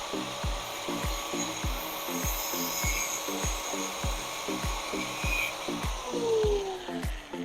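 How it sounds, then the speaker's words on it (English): A grinder runs and slowly grinds, producing a steady motor whine with a regular, rapid thumping pulse and a rising scrape near the end, close and moderately loud without speech. "we're gonna start by turning it on and slowly grinding it like this"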